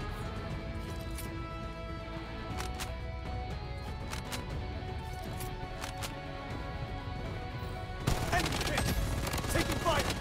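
Rapid automatic gunfire from the shooter game Bloodstrike rattles in dense, continuous bursts, then swells into a louder, harsher volley near the end, with scattered sharp cracks over a constant battlefield rumble.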